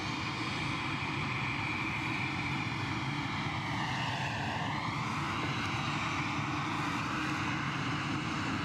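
A KLM airliner at Edinburgh Airport, its engines roaring loud and steady throughout with a tone that sweeps downward and then back up midway as the aircraft passes nearby.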